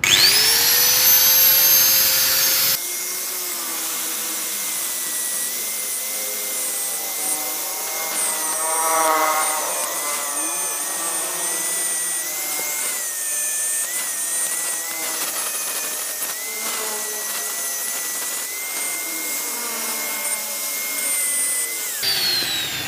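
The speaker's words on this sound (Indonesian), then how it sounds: "Lemono tak gerinda dulu." An angle grinder grinds a metal part on a motorcycle, a steady high whining grind lasting about twenty seconds with slight shifts in pitch, loud and close, with no talking over it.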